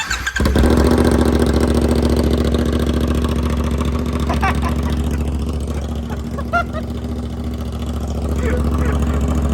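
A CF Moto 450SR motorcycle with a full system exhaust and no canister fires up and idles with a deep, loud rumble, blipping the throttle a few times close by.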